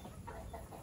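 Chickens cluck softly in a farm coop, a faint, short burst of low murmuring hen sounds against background noise.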